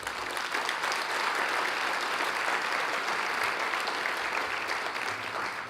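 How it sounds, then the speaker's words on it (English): Steady, sustained audience applause at a civic State of the City address in Folsom, a full crowd clapping evenly and fairly loudly throughout without voices standing out. "How about a big round of applause?"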